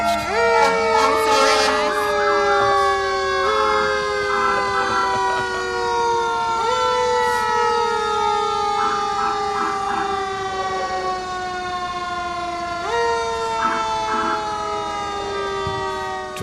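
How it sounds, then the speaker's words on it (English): Several emergency vehicle sirens wail together at a Memorial Day parade in Attleboro, overlapping rising and falling tones sustained loud throughout, with faint crowd noise beneath. "the sirens in perfect harmony almost"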